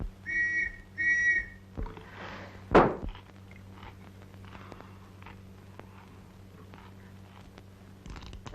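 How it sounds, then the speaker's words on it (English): Two short, shrill whistle blasts sound in quick succession indoors in a 1934 film scene, followed by a single dull thud and then quiet room tone. "The whistle that was blowing just now."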